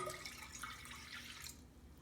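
Water runs into a medium saucepan on a home stove, a brief soft gush of pouring liquid heard faintly and evenly for about two seconds.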